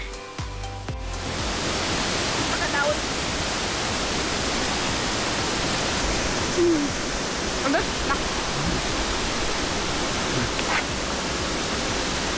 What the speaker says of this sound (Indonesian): diiringi latar suara air terjun